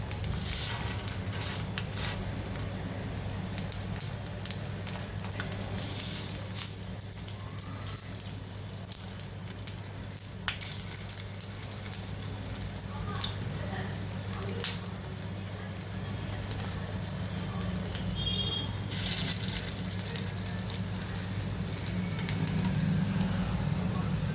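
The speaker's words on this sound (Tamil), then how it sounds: "இப்போ இது அடுப்பு ஸ்லோவாக இருக்கும்போதே ஸ்லோ ஃப்ளேம்லேயே கொஞ்சம் நல்லா வேகட்டும் ஒரு சைடு" Chicken kebab frying in a pan over a slow flame, a steady soft sizzle running continuously at moderate level with a low constant hum underneath.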